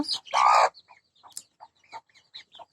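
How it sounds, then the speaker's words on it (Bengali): Native chicks and small domestic fowl give a string of short, soft chirps and clucks spaced through a quiet stretch, after a brief louder rustling burst at the start. "আজ আমি দেখাবো আমার কিছু মুরগির বাচ্চা, দেশি মুরগি"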